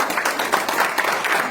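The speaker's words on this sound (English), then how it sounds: "Let's give that a round of applause." An audience at an international human rights summit conference gives a brief burst of applause, a dense patter of clapping heard up close for just over a second.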